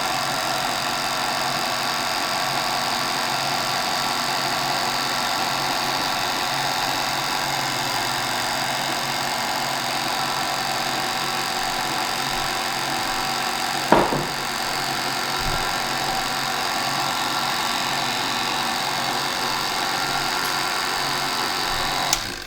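A stand mixer runs steadily on low, mixing homemade bread dough, with a constant even motor hum throughout and one brief sharp knock midway. There is no talk.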